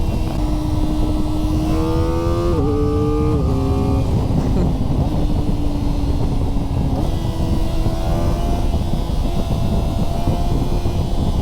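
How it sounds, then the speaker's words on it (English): A Kawasaki ZX-4RR sport bike cruising on a highway around 66 mph, its engine note rising and falling in pitch under constant loud wind rush, with no voices. "Honestly, on the highway, it's pretty smooth. I mean, we're only doing 66 miles an hour."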